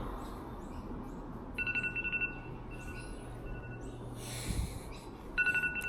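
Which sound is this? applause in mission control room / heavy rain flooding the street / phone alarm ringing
phone alarm ringing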